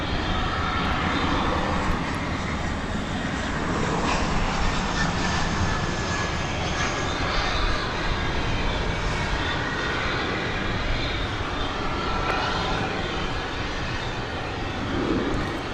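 Jet airliner at DFW Airport at night, a loud sustained engine roar that holds steady for the whole stretch with a faint rising whine, no talk over it.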